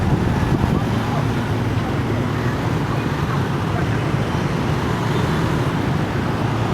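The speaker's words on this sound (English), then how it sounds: "The sights and sounds and smells of the Hanoi rush hour traffic." Rush hour road traffic in Hanoi, Vietnam, makes a steady, dense roar of engines and tyres that holds at an even loudness throughout, close by and continuous, with no clear individual vehicles standing out.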